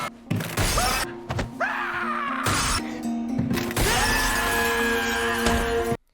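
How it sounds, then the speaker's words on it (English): Normal glass panes shatter on the glass bridge in Squid Game, heard as several loud crashes and thuds scattered through a dense dramatic soundtrack with sustained tones, ending in sudden silence. "The bridge has 2 types of glass, tempered and normal. The normal will shatter."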